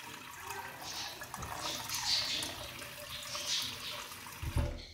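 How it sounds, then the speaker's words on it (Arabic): A small amount of water runs and splashes into a pot for boiling rice, a continuous close pour with a brief clunk at the end and no talking. "دروك كيما راكم تشوفوا غادي نعمرو كمية قليلة من الماء"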